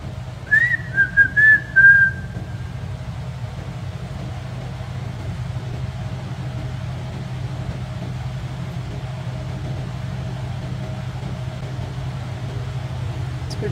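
A person whistles a short rising-and-falling tune for about two seconds, then only a low steady hum of background noise remains in a quiet room of an old WW2 facility.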